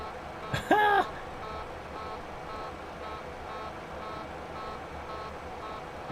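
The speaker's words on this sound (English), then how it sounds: "What the frig is beeping at me?" Cockpit alert beeping in an IXEG Boeing 737-300 in the X-Plane 11 flight simulator: a steady train of evenly spaced electronic beeps over a constant engine hum, with a brief louder tone near the start.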